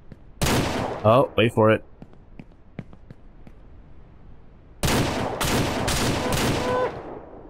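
Rifle shots ring out in Ranch Simulator: a sharp blast and a quick cluster of shots early, faint ticking in between, then four loud closely spaced gunshots near the end; someone talks briefly before the first shots.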